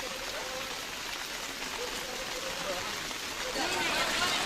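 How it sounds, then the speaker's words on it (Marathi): Heavy rain falling near the Pandharpur temple by the Chandrabhaga riverbank, a steady dense hiss of drops on surfaces that swells slightly louder toward the end, with a faint voice underneath. "पंढरपूरच्या मंदिराजवळ पावसाची दृश्य आहेत"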